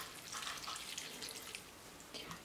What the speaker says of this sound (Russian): Добавляем 4 стакана теплой воды